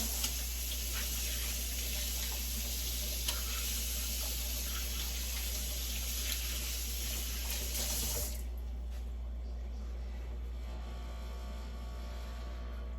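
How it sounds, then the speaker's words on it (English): Water runs steadily from a kitchen tap while hands are rinsed, a close, even splashing hiss that stops abruptly partway through, leaving only a faint hum. "So let me rinse my hands real quick."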